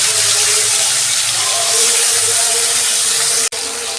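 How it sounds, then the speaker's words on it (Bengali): Bhetki fish fries in hot oil in a wok, a loud, close, unbroken sizzling hiss that cuts out for a moment near the end before going on. "তেল গরম হয়ে গেছে, মাছটা ভেজে নিচ্ছি।"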